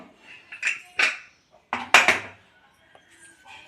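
A metal pressure cooker lid is opened after cooking cabbage, with several sharp clinks and clanks of metal on metal in quick bursts, then a short pause and a few softer knocks in a kitchen.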